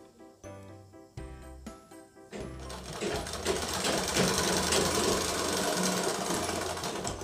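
An electric sewing machine stitching a women's pant, starting with short stop-start bursts of clatter, then running steadily at full speed with a fast, even mechanical rattle, close and loud.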